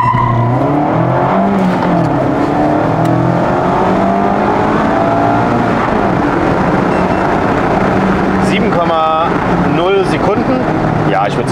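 A Mazda MX-5 engine revs hard under acceleration, pitch sweeping upward loud and close through the gears, with tire and road roar and someone talking over it.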